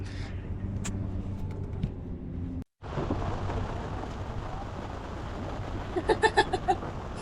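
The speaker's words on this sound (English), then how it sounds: "Getting a little rain here in Venice just suddenly." A sudden rain shower falls in Venice, heard as a steady broadband hiss of rain outdoors that briefly cuts out, then carries on with light tapping near the end.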